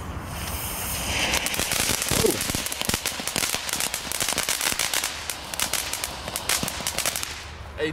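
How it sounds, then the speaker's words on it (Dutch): Lidl consumer fireworks of the crackling-shot type go off in a sustained burst of dense crackles and sharp pops, loud and continuous for several seconds before tapering, outdoors with no talk. "dit hoort uit zo'n crackling shot te komen"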